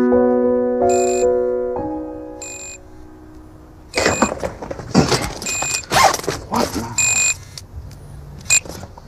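A mobile phone rings inside a bag, a short repeating tone pattern that then gives way to rustling and clattering as the bag is handled.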